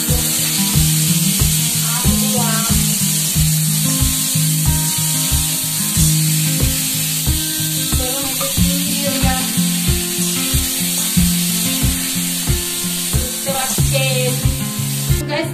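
Panch phoron spices and bay leaf sizzle in a pan for mango chutney, a steady close hiss with dense crackle and regular clinking or tapping strokes running throughout, no voices.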